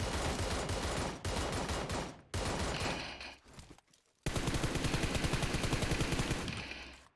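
Automatic rifle fire in PUBG Mobile rattles in long, rapid, evenly spaced bursts, loud and close, broken by short pauses and a brief near-silent gap before a final extended spray.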